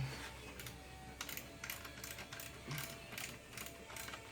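Ratchet wrench clicking steadily as it loosens a 14mm alternator bolt on a Nissan Altima, a close, rapid string of mechanical ticks with no talking.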